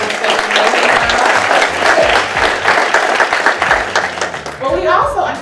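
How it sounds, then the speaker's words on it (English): Audience at a senior center obesity care town hall applauding, a dense, sustained burst of many hands clapping from a crowd, loud and steady, with voices mixed in near the end. "give Frank Bailey Senior Center staff a round of applause for this"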